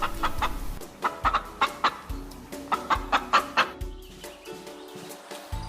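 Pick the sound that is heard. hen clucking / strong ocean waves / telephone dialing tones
hen clucking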